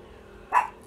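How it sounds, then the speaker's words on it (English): A female dog gives a single short bark partway through, fairly close and fairly loud against a quiet outdoor background. "I don't know what she's barking at."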